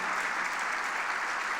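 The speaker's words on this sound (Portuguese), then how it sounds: "Você pode aplaudir ao Senhor Jesus por isso?" A church congregation applauds together in a steady, dense wash of clapping that stays even throughout, with no distinct voices above it.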